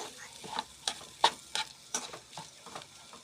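Ingredients frying and being stirred in a pan for pulao: a series of rhythmic spatula scrapes and taps over a quiet background sizzle, roughly one stroke every third of a second.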